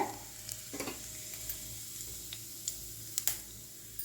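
Whole cumin, cinnamon, cloves, cardamom and bay leaf sizzle in hot oil in a kadai, a soft steady fizz with scattered small crackles and ticks, close and quiet.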